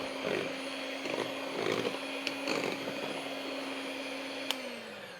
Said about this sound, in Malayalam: കണ്ടൻസ് മിൽക്കും പാലും ഇതിലേക്ക് ഇട്ട് ഇനി ഒന്ന് ലൈറ്റായിട്ട് ഒന്ന് അടിച്ചാൽ മതി